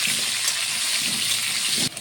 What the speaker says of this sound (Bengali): দেবো সামান্য একটু হলুদ গুঁড়ো, দিয়ে আলুটাকে ভেজে নেব।